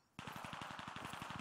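Video game gunfire, a rapid automatic burst of evenly spaced shots that starts abruptly after a brief quiet and rattles on loud and close, with no talk over it.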